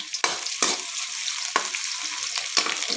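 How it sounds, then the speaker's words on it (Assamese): Onions and spices fry in hot oil with a bright, continuous sizzle, broken by several sharp scraping stirs of a spatula, close and without talk. "এতিয়া মই ইয়াত পিঁয়াজ দি মছলাখিনি ভাজি লওঁ"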